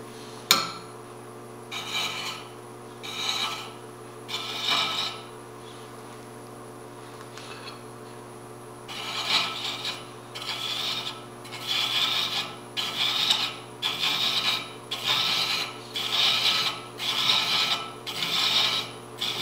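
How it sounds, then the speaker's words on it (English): A wooden box lid is having its thread cut by a hand-held thread chaser on a wood lathe. A steady mechanical hum underlies repeated rasping, scraping strokes that come in a quickening rhythm of near, moderately loud passes. "my chaser is just doing its own thing. It's following along there. I'm cutting a real nice thread."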